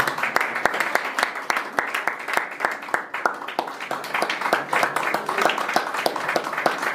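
Steady rhythmic clapping from a church congregation as a gift is presented to an elder, even beats continuing throughout at close range.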